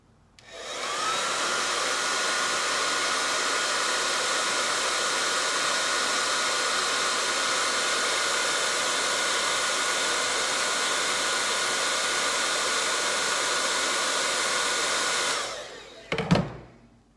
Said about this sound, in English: I'm just going to heat that now to help speed up the glue drying and also so it lies flatter